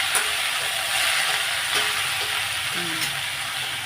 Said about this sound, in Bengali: এদিকে আলু ভাজাটাও হচ্ছে